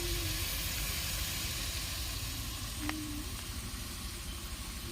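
Vegetables and beans sauté in hot oil for white biryani with steady, close sizzling and frying hiss throughout, with one brief clink partway through.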